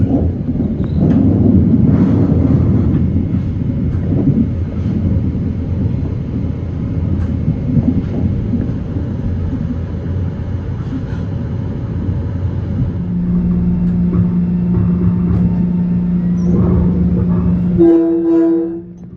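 A Long Island Rail Road express train pulls out of Jamaica station toward Hall Interlocking, a loud continuous rumble of wheels and motors with a sustained horn tone near the end, no talk.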